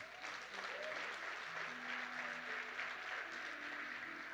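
Church congregation applauding during a sermon, a steady wash of many hands clapping throughout, with faint sustained tones underneath.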